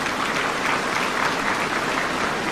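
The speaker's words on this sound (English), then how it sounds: "Let's give them a round of applause." Audience applause for the winners of a 2023 secondary school essay writing competition at a formal East African Community event in Tanzania, a steady, dense clapping that holds evenly for the whole stretch with no voices above it.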